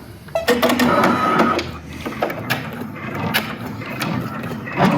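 A Brother PR embroidery machine sews lock stitches on a bag held in a clamp frame, giving close, loud rapid mechanical clatter and ticking that runs throughout, with faint talk mixed in.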